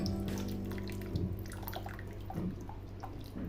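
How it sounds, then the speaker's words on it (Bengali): Cornflour mixture is stirred into watermelon juice in a pot, giving soft, continuous liquid swishes and small drips over a low background hum. "মিশ্রণটা অল্প অল্প করে দিতে হবে আর নাড়তে থাকতে হবে"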